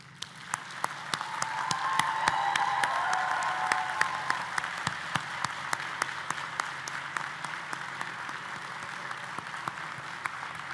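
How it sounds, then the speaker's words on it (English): A commencement ceremony audience at a medical school graduation breaks into sustained applause that swells over the first few seconds, then holds steady as a dense wash of many hands clapping, heard from a distance in a large hall. "Please join me in applauding these very important people."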